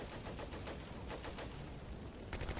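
Gunfire crackles between houses in the Combat Mission Beyond Overlord video game, French against Germans. Faint, rapid bursts of small-arms fire repeat through the clip, with a sharper burst near the end and no talk.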